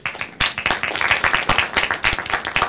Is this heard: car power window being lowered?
no